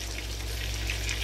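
Two cups of water are poured into a thick beef gravy mix, making a steady, even splashing rush at moderate level with no talk.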